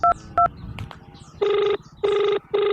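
Telephone keypad tones beep twice, then a ringback tone pulses three times in steady bursts, loud and clear with a faint murmur of background noise between.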